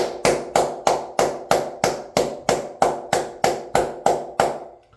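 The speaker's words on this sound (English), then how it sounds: "Rounds of applause for all of y'all." One person claps about thirteen sharp, evenly spaced times in a steady rhythm, close and loud with nothing else under it, and the clapping stops abruptly at the end.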